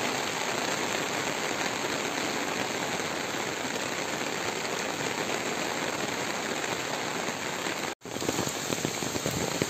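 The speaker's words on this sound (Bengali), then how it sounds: "বৃষ্টি আর বৃষ্টি চারিদিকে।" Heavy rain pours down steadily on a cloudy day, a dense, loud, unbroken hiss of drops hitting surfaces that continues throughout with only a momentary break near the end.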